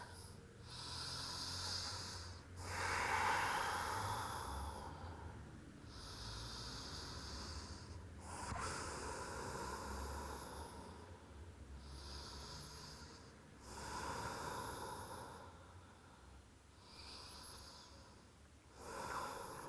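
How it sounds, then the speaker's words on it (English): Slow, deep yoga breaths during a gentle flow session, several long breathy inhales and exhales with soft hissing air, close and quiet, repeating in a steady rhythm with no talking. "Taking 5 long deep breaths."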